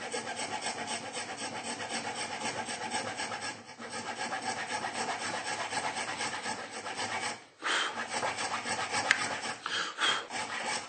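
A file cuts a string slot into a bone banjo nut with continuous close, raspy back-and-forth strokes. Two brief pauses break the filing before it resumes.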